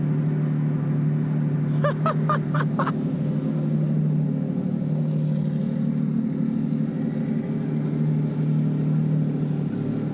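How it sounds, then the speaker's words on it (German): A Lamborghini Revuelto V12 engine idles with a steady low rumble throughout, briefly overlaid by a short burst of rhythmic higher-pitched pulses near the start. "Jetzt haben wir den V12-Motor an."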